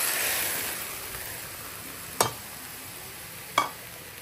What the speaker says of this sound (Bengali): সরিষার তেল ভালো মতো গরম করে দিয়ে দিব গ্রেট করা জলপাইয়ের মিশ্রণে